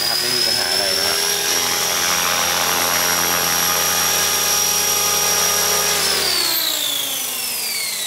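An ALZRC Devil X360 RC helicopter whines loudly and steadily in flight, its rotor tone holding high before sliding down as it slows near the end.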